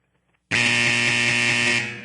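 A loud, harsh buzzer blares for about a second and a half after brief quiet on a sports talk radio show, steady and unbroken before trailing off slightly at the end.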